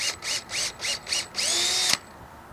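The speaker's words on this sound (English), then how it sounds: "And go ahead and pre-drill." A power drill pre-drilling a screw hole in a shade housing end cap revs in quick short pulses, then holds one longer whine before stopping, close and loud.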